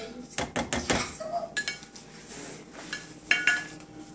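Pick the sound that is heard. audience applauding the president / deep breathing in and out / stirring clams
stirring clams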